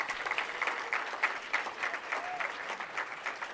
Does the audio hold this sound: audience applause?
yes